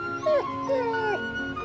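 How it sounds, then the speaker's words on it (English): A dog whimpers and howls in short rising and falling cries, two or three plaintive wails close up over a quiet background. "Dogs."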